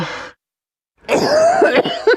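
A short sound, then silence, followed by a harsh rasping cough burst and a couple of quick follow-up coughs, close and loud.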